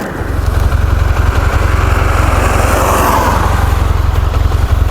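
BMW F800GT motorcycle pulling away slowly, its engine a loud, steady close-up throb with a low rhythmic pulse and wind rush over the top, no voices.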